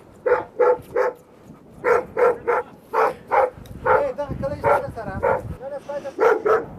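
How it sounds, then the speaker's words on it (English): A large dog barks repeatedly in loud close bursts during a military search inside a walled compound in Afghanistan, with some whimpering between barks. "when they encounter a large dog, the stress comes to a boiling point"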